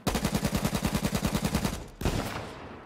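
Rapid automatic gunfire from a video game, about fifteen evenly spaced shots in a fast rhythmic burst, then a brief gap and a single louder report that fades out. No one speaks.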